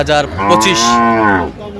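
A dairy cow with her calf at a weekly cattle market lets out one loud, close, drawn-out moo that lasts over a second, with faint market noise around it.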